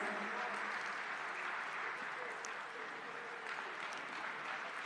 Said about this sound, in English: Please keep the applause coming, ladies and gentlemen,